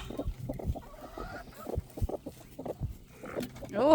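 Broody hen clucking in a farm setting, a run of short low clucks and grumbles repeating unevenly at close range, with a brief higher squawk near the end.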